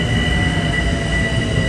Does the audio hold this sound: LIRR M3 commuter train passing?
yes